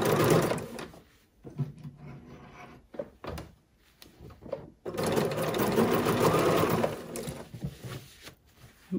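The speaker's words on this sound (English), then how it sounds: "You're gonna stitch a little few stitches forward," A domestic sewing machine stitches an embroidered fabric face mask, running in several bursts of motorized whirring with brief pauses between them, a longer steady run near the end.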